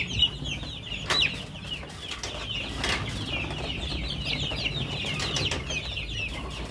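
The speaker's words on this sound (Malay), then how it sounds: "Ini ada ayam yang turun, guys." Chickens cluck and flap their wings at a black soldier fly maggot farm, busy overlapping clucks with bursts of wing flapping close by, no talking.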